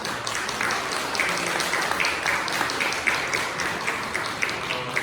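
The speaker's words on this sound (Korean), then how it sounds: "우리 박수로 환영하겠습니다" Church congregation applauding during a Sunday service to welcome a visitor, a steady continuous patter of many hands at moderate loudness lasting several seconds.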